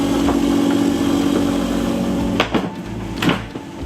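Loud, steady engine drone fills the cabin of a small airplane parked at a crash site in the Bahamas, a constant low roar with a couple of brief louder swells near the end.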